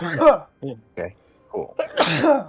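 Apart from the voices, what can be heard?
sneeze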